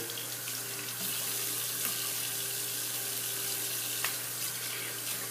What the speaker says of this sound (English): Alright, I'm going to just rinse my face off.